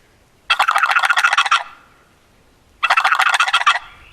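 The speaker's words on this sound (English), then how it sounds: "You hold the call on the base right below the screw like this, and you just shake it" World Champion box turkey call shaken by hand, giving two loud, close bursts of rapid gobbling rattle about a second long each, separated by a short quiet gap, with no talking.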